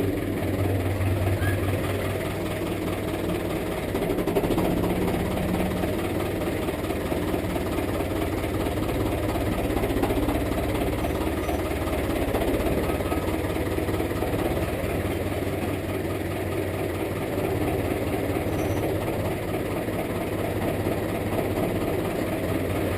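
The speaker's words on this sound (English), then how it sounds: "tractor is back in the shed" A tractor engine rumbles steadily as the tractor returns to a farm shed in winter, a low, continuous, moderately loud drone with a faint mechanical rattle and no distinct changes.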